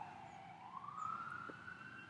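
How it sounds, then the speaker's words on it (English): A faint emergency vehicle siren wails in the distance, one slow rising sweep heard outdoors in a backyard over steady low background hum. "here comes a third siren"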